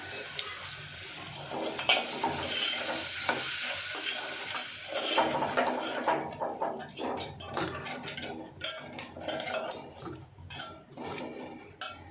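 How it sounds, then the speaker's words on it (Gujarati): Water poured into a tomato gravy for a bitter gourd and jaggery curry, which then bubbles and sizzles in the pan while a spoon stirs and scrapes continuously, with no talking. "આપણે ગ્રેવીને પકાવવા માટે થોડુંક એમાં પાણી ઉમેરીશું"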